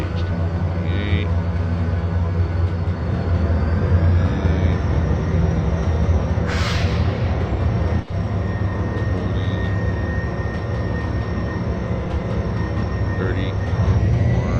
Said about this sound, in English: Dynamic braking is engaged.